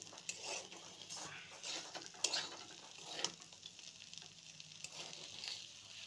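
Meat, potatoes and onions frying in a pan, a faint soft sizzle with occasional sharp clinks and scrapes of stirring utensils against the pan, quiet and close with no talking.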